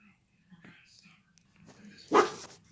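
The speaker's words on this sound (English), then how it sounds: "She's woofing and carrying on." A female dog barks and woofs at a neighbor's dog out back, one sharp bark standing out after quieter muffled sounds, heard indoors over low background noise and faint whispering.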